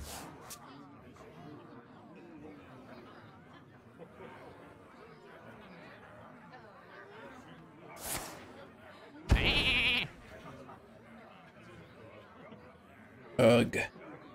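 Sheep bleats from the video game Hearthstone: a short bleat near the middle and a second brief one near the end, each jumping out above a steady bed of game sound and chatter.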